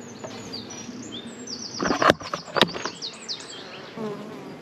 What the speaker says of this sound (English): a full box of bees